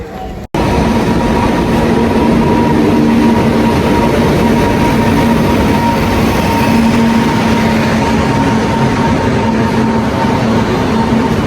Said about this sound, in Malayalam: ട്രെയിൻ വന്നു ഗൈസ്. ഫൈനലി ട്രെയിൻ വന്നു.